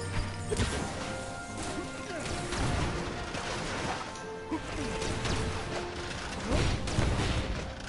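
Missile launchers in the video game Knack set off repeated crashing impacts and explosions, a dense, busy clatter of hits spread throughout at moderate loudness, with a voice talking now and then.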